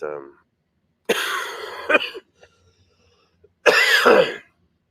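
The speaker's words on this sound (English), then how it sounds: "I feel like every time I cough," A person clears their throat and coughs in short rough bursts, close to the microphone, separated by quiet gaps.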